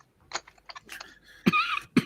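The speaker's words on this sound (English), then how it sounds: "Cough." A single sharp cough bursts out after a few faint clicks and mouth sounds, followed by a short second cough, close and alone.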